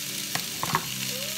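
Bubble and squeak fries in a worn old frying pan, giving a short, steady close sizzle with a few small crackles and pops and no voices.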